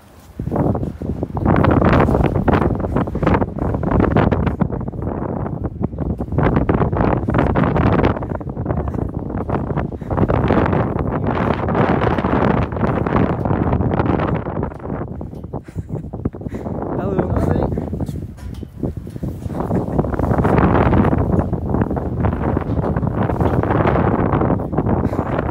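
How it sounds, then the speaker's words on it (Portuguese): Strong, continuous wind buffeting the microphone on a high-altitude suspension bridge in the Swiss Alps, a loud roaring rumble that swells and eases in gusts, with people talking under it. "Há muito vento."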